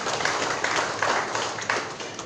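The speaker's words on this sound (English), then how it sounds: "Can we clap for KGL Foundation, please?" Audience in Accra applauding the KGL Foundation at a Ghana football announcement event, a steady wash of many hands clapping at moderate distance throughout.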